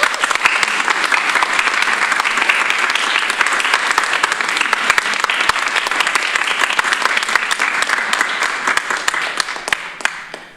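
A county legislature audience breaks into sustained, dense applause that fills the meeting room at steady loudness for about ten seconds, then starts to taper at the very end.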